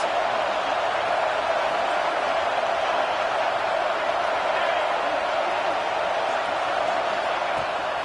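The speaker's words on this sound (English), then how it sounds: "this crowd is getting behind this defense" A football stadium crowd roars steadily for the defense at a Texas A&M at USC game, a dense, continuous wash of cheering that holds at the same loud level throughout with no breaks.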